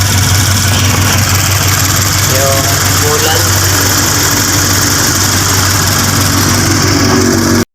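A 2021 Toyota 86 idles with a steady, loud exhaust drone that runs unbroken throughout while a person speaks briefly over it.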